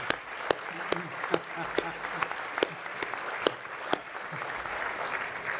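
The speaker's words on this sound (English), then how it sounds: "I think we should give him a round of applause for that one." Applause from the audience at a memorial event for Major General Michael Jeffery, steady crowd clapping with a few sharper, nearer hand claps standing out, fairly quiet overall.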